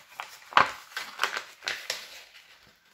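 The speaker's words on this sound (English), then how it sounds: "open and mountain the next line and fold in half" Origami paper being folded in half along a grid, a series of crisp papery crackles and rustles close by, quiet between sharp crinkles.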